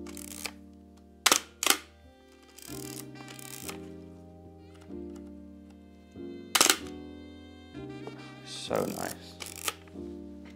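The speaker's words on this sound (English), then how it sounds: "the noise of this shutter, because it is crazy" A few loud, sharp mechanical shutter clacks from a Pentax 67 medium format camera fire at intervals over quiet background music, and a voice briefly speaks.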